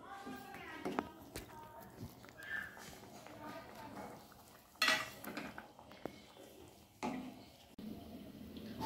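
Pot lid lifted off and hilsa pieces turned over in a mustard-poppy curry, giving scattered clinks and scrapes of metal lid and spatula against the pan, brief and sharp, with talk over the kitchen sounds.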